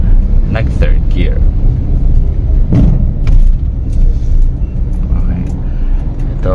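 Car cruising in third gear on a single-lane road shared by two-way traffic, a steady low engine and road rumble from inside the cabin, with occasional clicks and a voice talking throughout.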